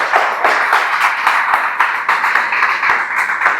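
A church congregation applauds with dense, sustained clapping from many hands. The applause is loud and close, holds at a steady level throughout, and no voices can be heard over it.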